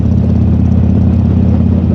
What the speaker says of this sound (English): the Iron 883, I don't know what exhaust pipes he's got on right now, but it's making a lot of noise